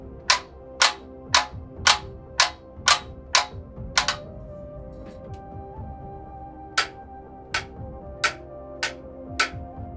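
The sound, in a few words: AW Hyper Shift sim racing shifter clicking loudly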